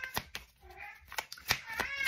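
A small cat gives a short, soft meow close by in a quiet room, surrounded by scattered sharp clicks and taps.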